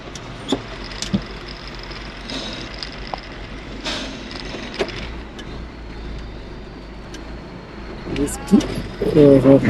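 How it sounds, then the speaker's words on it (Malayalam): A vehicle grinding slowly over loose stones on a rough, broken road in Nepal: a steady low rumble with scattered knocks and scrapes, rougher and louder near the end, with occasional voices. "കല്ലിന് മുകളിൽ കയറിയിട്ടാണ് പോകുന്നത് കേട്ടോ."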